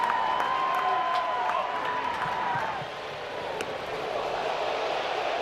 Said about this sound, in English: those two swings of the bat have really woken up the crowd here at T-Mobile